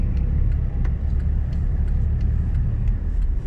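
Truck engine labouring in second gear without its turbo while hauling a mini excavator, a steady low rumbling drone that never builds into a rev, continuous and close throughout.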